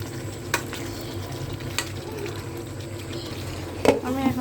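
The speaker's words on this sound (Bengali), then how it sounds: "এখন আলুগুলো দিয়ে আমি আবার ভালো করে এটাকে কষিয়ে নেব।" Cut potatoes stir-fried with chicken in a pan, a close steady sizzle with a few sharp scraping stirs, and a brief voice near the end.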